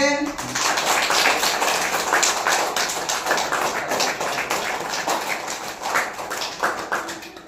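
A group of children claps together in a classroom, producing a dense, continuous patter of quick claps with a voice speaking over it.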